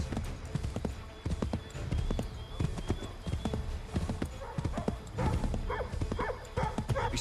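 Steady clip-clop of horse hooves while riding in Assassin's Creed 3, a quick rhythmic gallop mixed with a dog barking and in-game voices talking.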